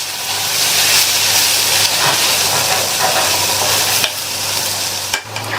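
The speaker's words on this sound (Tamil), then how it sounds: "இந்த மிளகாத்தூளோட பச்சை வாசனை போக வதக்கிக்கலாம்." Tomatoes sautéing with chili powder in a pan for an idli-dosa kurma side dish: a steady, close sizzling and frying hiss that runs through, broken by brief stirring scrapes, with no talking.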